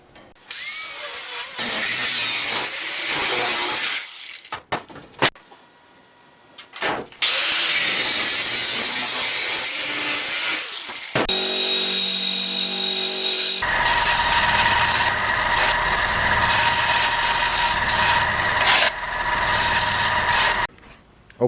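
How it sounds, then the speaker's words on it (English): Angle grinder cutting steel tubing for a welded herb garden frame, loud close bursts of high grinding whine separated by pauses, ending in a long sustained cut with a rough buzzing drone. "cut them out with the angle grinder"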